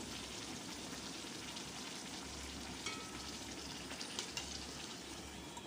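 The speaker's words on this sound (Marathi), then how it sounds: "एक एकच पुरी तळायची बघा झाऱ्याने थोडं वळून तेल टाकूया" A single puri fries in hot oil, part of a Ganesh Chaturthi cashew modak puri recipe. Quiet, continuous bubbling sizzle with a few light ladle taps, heard alone without voices.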